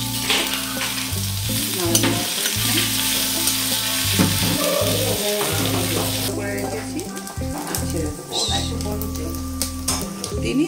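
Chilli, bay leaf, cumin and chopped ginger fry in a pan with a continuous loud sizzle, broken by repeated stirring scrapes, while a person talks over it.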